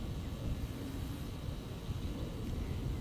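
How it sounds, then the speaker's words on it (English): A steady, low drone from an air conditioning unit running at a trailer out back, a constant broadband hum that stays even and fairly loud throughout with no talking over it. "If you hear that buzz, the drone going on in the background, that is the AC unit from one of the trailers out back."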